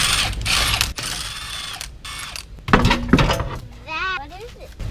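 A ratchet clicks in short bursts while a tire comes off a jacked-up Toyota Corolla during a rotor change, mixed with metallic clinks and a brief squeaky sound near the end.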